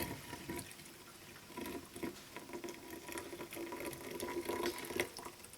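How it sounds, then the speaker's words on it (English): Water draining from a sink after blocking a crochet shawl, a faint, continuous trickle and gurgle with soft patter, heard close and alone. "Just going to let that drain for a little bit."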